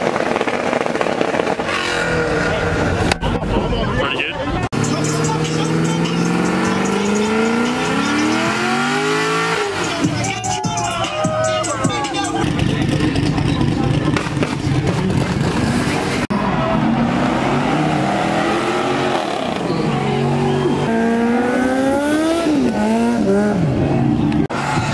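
A car at the Street Car Takeover Charlotte street car show revs hard nearby, its engine note climbing and dropping in repeated loud pulls, with other engines and crowd noise around it.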